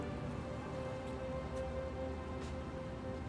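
Rain falling in the video game Hitman: World of Assassination, a soft, steady hiss of rainfall with scattered patters, faint and uninterrupted, no talking.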